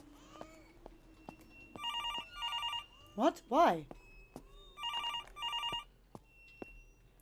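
Four bursts of a telephone ringing in the horror video game Infliction trill in pairs, moderately loud. A voice briefly speaks between the rings.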